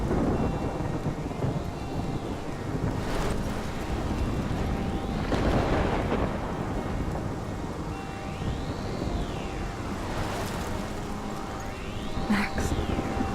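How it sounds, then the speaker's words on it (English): A storm rolls over a coastal town in the Life is Strange video game, with a steady roar of wind and rain and low thunder rumbling under a soft rising and falling tone. "the two Max? girls hold hands and watch the storm envelop the town"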